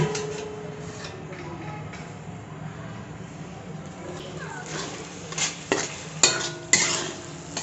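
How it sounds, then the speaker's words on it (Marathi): Masoor gravy being stirred and sautéed in a kadhai over low heat, a soft bubbling sizzle under quiet background hum, then several sharp metallic scrapes and clinks of the spoon against the pan toward the end. "मंद गॅस करून ग्रेव्ही छान तेल सुटेपर्यंत आपण परतून घेऊयात"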